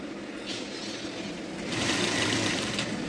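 A sewing machine runs a seam on blouse fabric with a steady, close mechanical whir that grows slightly louder partway through the short stretch, without any talking.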